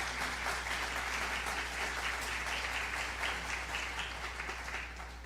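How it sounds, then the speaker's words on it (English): Congregation applauding after a prayer, a sustained, even round of many hands clapping at moderate distance, tapering slightly at the end, with a low steady hum beneath and no speech. "Let's give Paul a round of applause."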